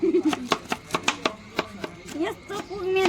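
Knife chopping green chilies on a cutting board in a home kitchen, about a dozen sharp, evenly spaced chops in steady rhythm, close and clear, with a voice talking underneath.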